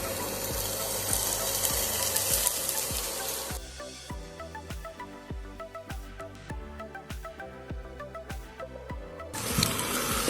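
Marinated chicken pieces dropped into a pan of fried spices, loud steady sizzling at first, then a stretch of scattered crackles and pops before the frying roars up again at the end.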